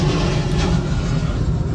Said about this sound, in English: Hear the airplane.